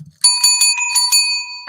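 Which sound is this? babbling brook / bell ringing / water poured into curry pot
bell ringing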